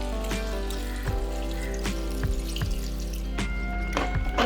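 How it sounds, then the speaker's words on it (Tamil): Water poured in a thin stream into a cooking pot of devilled chicken, with splashy drips and small clinks over a steady low hum, close by. "இப்போ இந்த தண்ணியை கொஞ்சமாக நான் அதுக்குள்ள விட போகிறேன்."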